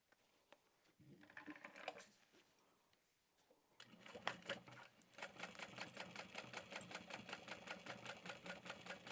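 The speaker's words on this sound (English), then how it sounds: "And then we'll top stitch that 1/4 of an inch from that folded edge." A sewing machine runs close up, top stitching a fabric tote bag a quarter inch from a folded edge, its needle chattering in a fast, even rhythm after a few short bursts and pauses.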